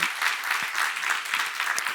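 Congregation applause during a church Bible seminar on Exodus: a brief, even burst of many people clapping together, fairly loud and sustained, with no voice over it.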